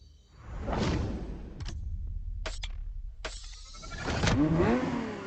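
A Ferrari F50 supercar in The Crew Motorfest sweeps past with a rising, falling whoosh of engine and wind, loud and close, followed by sharp cut-off bursts and a second roaring surge near the end.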